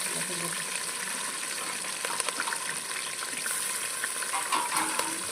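Tomatoes and curry leaves frying in a pan over a wood-fired stove for country chicken curry, a continuous close sizzle with stirring scrapes and voices talking over it.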